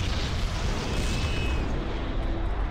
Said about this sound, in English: Let's hope we survive the explosion.